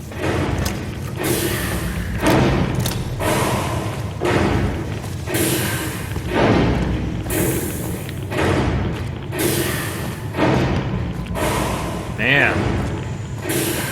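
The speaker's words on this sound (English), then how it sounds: "That is some ominous metallic thumping." Ominous metallic thumping in Fallout New Vegas, heavy thuds repeating at a steady rhythm of about one per second, loud and close, with game ambience underneath and a brief voice near the end.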